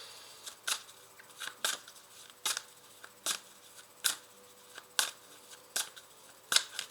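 Oracle cards are shuffled in a series of about a dozen short, crisp riffling snaps at a fairly steady pace, heard up close in a quiet room.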